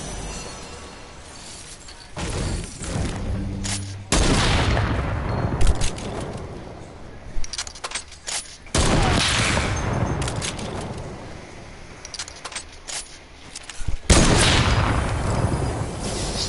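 Desert Eagle pistol fire in a video game battle royale match, several loud sharp shots spaced irregularly with echoing tails and scattered clattering impacts in between.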